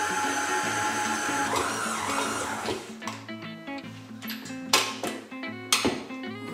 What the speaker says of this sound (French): Donc, on va pétrir pendant environ 7-8 minutes à vitesse moyenne.